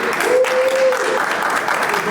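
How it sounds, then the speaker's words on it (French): Dense audience applause filling the clip, a steady wash of many hands clapping with a brief tone sounding over it. "Applaudissez-la s'il vous plaît."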